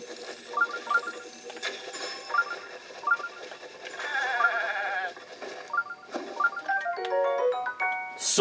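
Goat bleating in the video game The Legend of Zelda: Breath of the Wild, with repeated wavering bleats over a steady game soundscape of music and ambience, plus a few clicky mechanical effects near the end.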